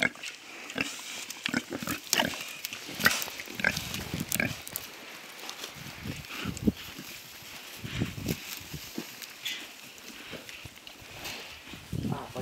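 Piglets rooting and turning over virgin ground for a vegetable garden, producing scattered close grunts, sniffs and rustling of earth at irregular intervals over a quiet outdoor background.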